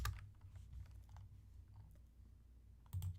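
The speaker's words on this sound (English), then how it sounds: "I'm typing seniors." Quiet, steady tapping on a computer keyboard during a live web design session, soft clicks running throughout with a slightly louder burst near the end.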